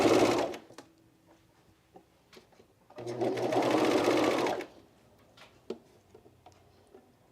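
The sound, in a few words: sewing machine stitching a camisole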